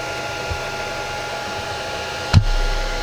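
A Creality Ender 5 Plus 3D printer fitted with a Sonic Pad prints infill at 200% speed and 60 mm/s, giving a steady, even whir of fans and motion with one short knock near the end.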